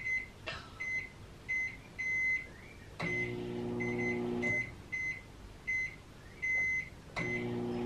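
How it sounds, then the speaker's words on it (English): A microwave oven hums steadily while drying wood, a series of short electronic beeps repeating at regular intervals, with a few sharper clunks from the door or buttons. "But I'm going 8 minutes of microwaving."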